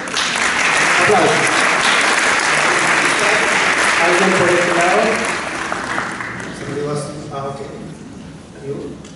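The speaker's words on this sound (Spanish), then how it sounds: "Aplausos." Audience applause during a Catholic priest's gathering in Rancagua, Chile, loud broadband clapping filling most of the span before easing toward the end, with voices rising underneath.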